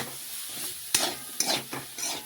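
Bitter gourd frying and being stirred in a pan, a steady close sizzle broken by several sharp scraping stirs of the spatula, with no voices.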